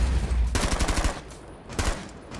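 Gunfire in the Rainbow Six Siege video game: a fast, loud run of automatic shots over a heavy low rumble, then a short second burst near the end, all close up.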